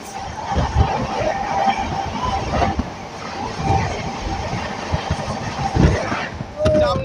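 An oncoming Indian Railways express, train 12505 Anand Vihar–Kamakhya North East Express, passes close by with a steady rumbling roar and rhythmic clatter that builds and surges over the full stretch, without a break.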